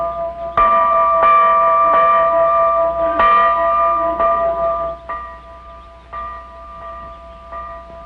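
Church bells ring out in a loose, uneven sequence of clanging strikes, each tone lingering and overlapping the next, fairly close and loud.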